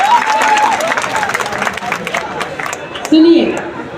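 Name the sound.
audience applause at poetry gathering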